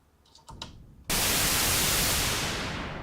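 A synthesizer noise module, a transistor-based white noise circuit, switches on abruptly after a few faint clicks, producing a loud, steady broadband hiss that holds constant and fades only slightly.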